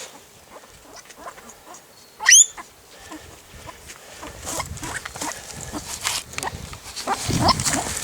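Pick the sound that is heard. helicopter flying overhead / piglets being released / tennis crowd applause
piglets being released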